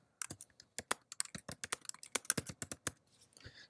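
Rapid, close keystrokes on a computer keyboard while retyping a title, an uneven run of crisp clicks lasting a few seconds, alone with no talk.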